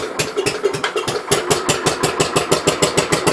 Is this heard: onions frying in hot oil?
no